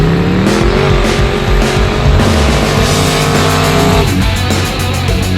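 Race car doing a burnout, a loud, close, continuous engine roar with revving pitch shifts and sustained tire squeal throughout, no talk.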